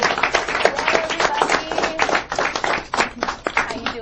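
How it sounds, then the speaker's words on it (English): A small audience claps for a comedian being introduced on a debate show, distinct individual claps forming a loose, uneven patter that rises and dips, with a few voices mixed in. "Clap, clap, clap."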